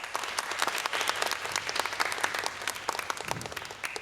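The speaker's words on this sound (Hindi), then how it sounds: "उनके इंट्रोडक्शन से पहले ही उनके लिए तालियां" Studio audience at a Pakistani talk show applauds a guest before his introduction, with dense, steady clapping held at close range and full volume across the whole stretch.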